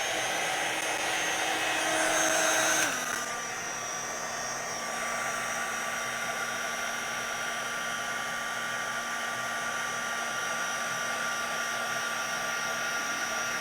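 A heat gun runs steadily while drying texture paste in a craft session, a loud continuous whirring blow with a slight pitch drop near the start, then holding an even drone throughout.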